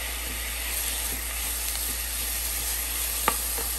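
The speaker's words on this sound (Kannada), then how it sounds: "ಈಗ ಸ್ವಲ್ಪ ಕಟ್ ಮಾಡಿರೋ ಟೊಮೆಟೊ ಹಾಕ್ತಾ ಇದ್ದೀನಿ." Chopped tomato sizzles steadily in a hot pan with capsicum and carrot while quinoa suji upma is being cooked, a constant close frying hiss with a few faint clicks and a single sharp tap near the end, no talking.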